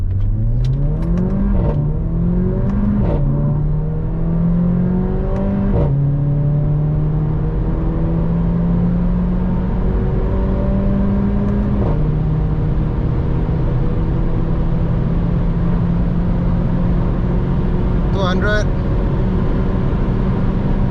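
A 360 hp Mercedes A45 AMG accelerates hard through the gears on a highway, a loud continuous engine roar rising in pitch with brief dips at each shift, heard from inside the car with occasional voices.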